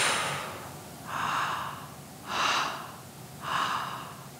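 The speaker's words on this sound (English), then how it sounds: "breathe in, into the lungs, nice full breath into the lungs. Hold it there and start breathing slowly." Slow, deep breathing during a guided breathing exercise: four long, airy breaths in a steady rhythm, each swelling and fading over about a second, close to the microphone with no talk.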